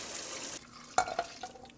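Hot water poured into a gingerbread mix: a brief rushing pour, then a couple of soft splashes and stirring sounds, close and quiet with no talking.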